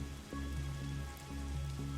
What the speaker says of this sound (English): whenever standing in this rain stops being fun for you